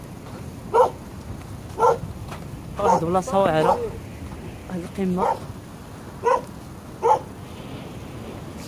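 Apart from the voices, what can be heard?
dog barking outdoors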